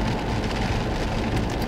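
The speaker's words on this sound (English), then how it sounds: "You can't hear a thing when it's raining because the microphone gets all of it." Rain drums on the roof and windscreen of a car during a driving lesson, a dense steady hiss of drops heard close and loud inside the cabin, with no talking.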